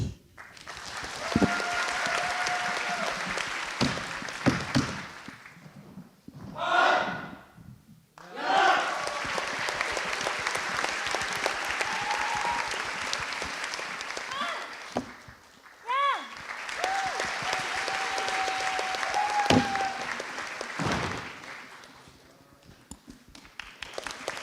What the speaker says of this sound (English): let's give them the last applause